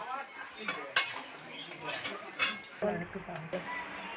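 Spoon scraping and clinking against a cooking pan while pointed gourd and ginger are stirred, a series of irregular metallic knocks and scrapes, quiet and close.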